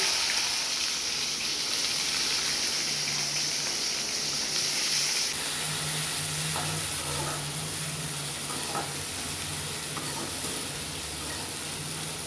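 Chopped onions and curry leaves fry in a pan with cumin and fennel seeds, a loud, steady sizzle with occasional stirring clinks close by and no voices.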